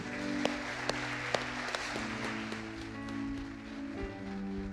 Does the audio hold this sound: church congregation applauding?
yes